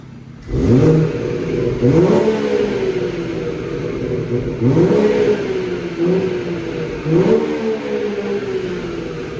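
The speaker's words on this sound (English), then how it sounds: "Lovely smooth engine," A BMW 340i M Sport Touring engine in sport mode revs repeatedly in surges, each rise followed by a deep, rumbling burble as it settles, close and fairly loud with no talking.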